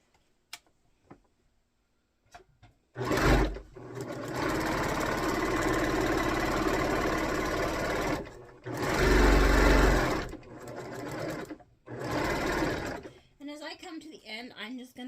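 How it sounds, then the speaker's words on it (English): Sewing machine stitching quilt pieces along all four sides, running in steady loud bursts with short pauses between seams, and a voice talking in the quiet gaps. "I'm just going to go ahead and start sewing on all four sides for every one"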